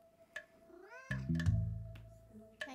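A cat meows repeatedly in a long, drawn-out, rising and falling caterwaul, close and fairly loud, with game music tones and clicks playing faintly in the background during play of the indie game Venba.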